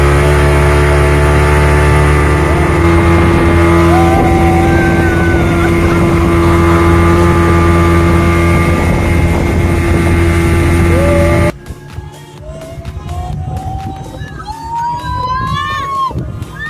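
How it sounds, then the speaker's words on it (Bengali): A motor boat for four people drones with a steady, loud engine hum for about eleven seconds, then drops abruptly to a quieter mix of water and background voices. "আমরা 4 জনের যে মোটর বোট আছে সেই রাইডটা নেব।"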